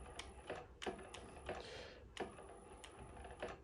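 A Brother PS-1987B sewing machine runs continuously with the half-stitch button held down, giving a quiet, steady mechanical clatter with regular ticking strokes roughly every third of a second.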